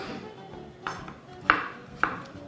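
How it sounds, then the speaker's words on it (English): Potatoes are cut into quarters with a knife on a board, three sharp chopping knocks spaced about half a second apart over quiet kitchen background. "So all I'm doing here is just chopping my potatoes"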